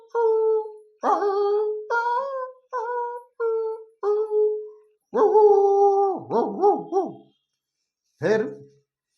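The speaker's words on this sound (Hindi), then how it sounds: "दूसरे कुत्ते और झगड़ते हैं, तो वो दोनों कुत्ते झगड़ते।" Several dogs bark, howl and whine in a rapid series of harmonic yelps and drawn-out cries, close and loud, breaking off briefly before a final sharp bark as the animals squabble.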